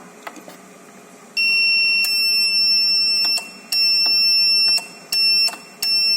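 Buzzer driven by a PIC 18F4520 microcontroller, a shrill steady high-pitched tone switching on and off in several bursts of uneven length, with faint clicks in between.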